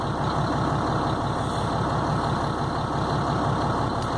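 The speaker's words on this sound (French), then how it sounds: "Je vais checker le rendement du compresseur, voir s'il permet un fonctionnement adéquat du frein de service." Truck engine idling steadily while its air brake compressor builds pressure for a service brake test, a dense, even, close rumble with a faint rhythmic pulse, continuous and without voices.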